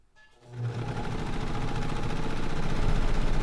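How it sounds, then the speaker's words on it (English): A sewing machine starts up and runs fast and steady, stitching fabric for a bag with a rapid close mechanical whir that builds within the first half second and then holds. "I'm sewing as hard and fast as I can"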